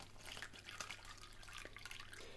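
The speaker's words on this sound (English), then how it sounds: "We'll pour it in there." Dirty water being poured into a paper filter bag from a water-bottle survival kit, a steady trickling and splashing stream that runs the whole time at close range, with no talk.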